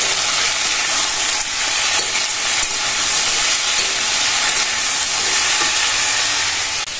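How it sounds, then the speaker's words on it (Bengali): A fried dish sizzles in a pan in a home kitchen, a loud, steady, hissing fry that runs unbroken from start to finish with no voices. "এখানে ভাজাটাও বসে দিয়েছি,"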